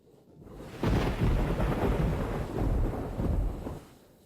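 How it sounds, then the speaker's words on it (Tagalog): Heavy rain pours outside with a deep, continuous rumble of thunder swelling up loudly and holding for a few seconds before easing off, with no voices. "habang daladala si Singshin, ganito rin kalakas ang ulan sa labas"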